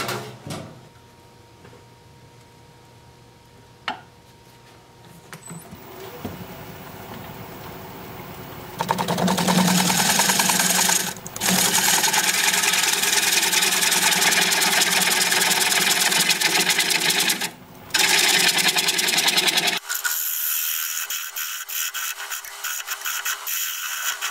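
A wood lathe turns a bark-on bowl. A quieter mechanical hum gives way to loud, rough cutting noise from the tool against spinning wood, with brief drops as the tool lifts off.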